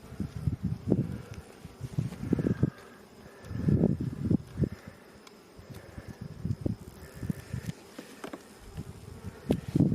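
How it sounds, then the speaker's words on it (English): Bees in a crowded hive buzz in swelling bursts, a busy droning hum that rises and falls close by with brief quieter gaps. "There are a lot of bees in this hive."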